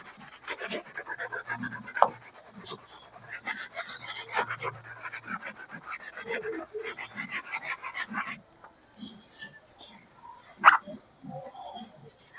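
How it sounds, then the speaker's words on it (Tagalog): A stiff brush scrubs a sneaker sole in rapid rasping strokes, close and fairly loud in bursts, then pauses before a few lighter scrubs and a sharp knock near the end. "Gumamit tayo ng medyo matigas konti na brush."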